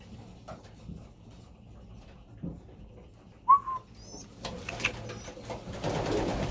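Young pigeons in a loft give soft coos and a brief whistling call amid quiet rustling, faint at first, then growing busier and louder toward the end.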